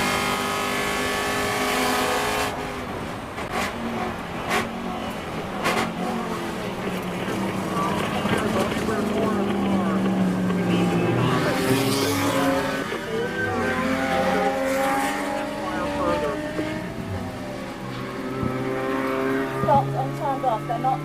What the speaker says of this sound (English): pay attention as we downshift into turn 7 here